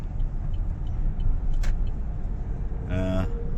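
A driverless car drives past on a road in China, a low, steady roadway rumble with brief mechanical whines and a short tonal hum near the end.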